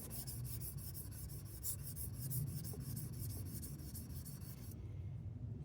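A plane iron laid flat and rubbed across a sharpening stone to remove the burr, a faint, steady back-and-forth gritty scraping that continues throughout.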